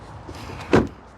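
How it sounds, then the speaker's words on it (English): The rear door of a 2024 Nissan Rogue SV shuts with a single solid, close thud, heard alone over quiet background. "let's listen to the sound of the closing door."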